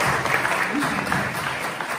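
A concert audience applauds a guitarist at an intimate music evening: dense, steady clapping from many hands fills the room without a break, close and even in loudness.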